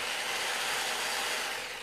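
A power tool runs steadily at a constant pitch, a continuous bright whirring hiss with no voices over it.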